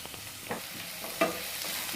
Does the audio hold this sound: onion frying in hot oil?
yes